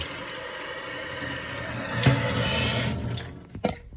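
Cooking water from boiled black beans pours and splashes steadily into a sink as the beans are strained, a continuous close rush of liquid that breaks into a few sharper splashes near the end.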